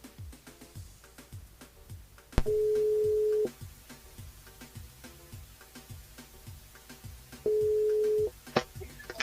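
A telephone line on a radio call-in show gives two long steady electronic tones, each about a second long, over a repeating low pulsing background while a listener named Valérie is being called.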